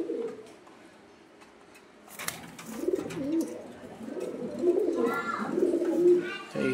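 Pigeons coo in soft, low, repeated throaty calls, starting faint and growing louder and more overlapping toward the end, with a rustle of wings in between.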